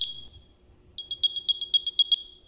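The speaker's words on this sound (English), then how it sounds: "you can use Find My to play a sound, and here's what it sounds like" An AirPods Pro 2 case plays its Find My alert: a high, thin electronic chirp sounds once, then a rapid run of repeated bright beeps follows in quick succession, clear and close against near silence.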